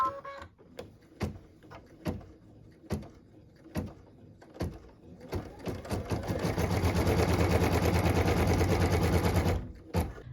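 Embroidery machine stitching a cut line on a quilt block: a few sharp mechanical clicks and thumps, then a steady loud whirring stitch run that holds for several seconds before stopping with a final click.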